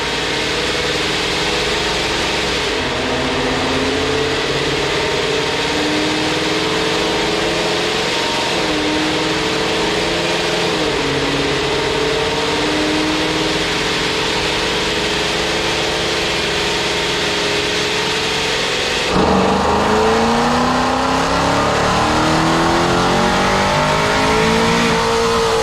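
A 971 hp ProCharged, cammed 5.7 R/T Hemi V8 roars loudly and steadily, its pitch dipping and swelling in repeated revs, then climbing in one sharp, even louder rev near the end, with no voices over it.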